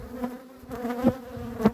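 Honeybees in a crowded hive, with signs of old, dying bees, hum in a steady close buzz that swells and fades with a few louder surges, no voices present.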